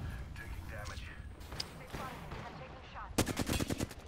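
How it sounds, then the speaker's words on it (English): Rapid automatic gunfire in the shooter Apex Legends bursts in near the end, a loud fast volley following a stretch of quieter game sounds under a speaking voice. "Oh, no, I'm shooting Ash."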